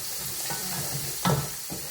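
Curry powder being stirred into a sauce frying with onions, a steady sizzle under a few soft scrapes of the spoon and one louder clunk of the spoon against the pan.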